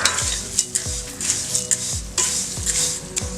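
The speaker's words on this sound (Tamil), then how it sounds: "இப்போ இதையுமே கொஞ்சம் நேரம் நீங்கள் இருப்பு சட்டியில் வச்சு லேசாக வறுத்துட்டு எடுத்து வச்சுக்கலாம்." Sprouted grains dry roasting in an iron pan, with a soft sizzling hiss and repeated scraping stirs and light clinks of a utensil against the metal, close and steady.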